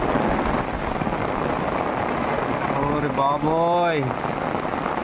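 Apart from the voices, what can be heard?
heavy rain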